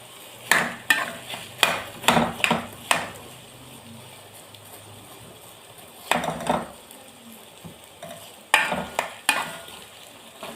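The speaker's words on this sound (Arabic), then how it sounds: "هنزل على البصل بتاعي بالصلصة اللي انا مفرزاها بالشكل ده الاول." Frozen tomato paste stirred into onions in a pot: scraping stirs and clinks of a spoon against metal come in clustered bursts over a soft, steady sizzle of frying, close up and without talk.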